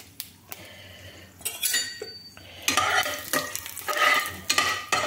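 Asafoetida, whole cumin and panch phoron sizzle in hot oil for a vegetarian Bengali dish, a steady frying hiss broken by bursts of stirring and spoon clinks against the pan, close and moderately loud with no talk.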